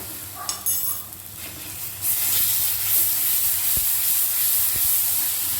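Fish pieces for doi katla, coated with turmeric, salt and red chili powder, stirred and fried over a low gas flame; a loud, steady hiss and sizzle with spatter close by, rising sharply after a brief quieter start.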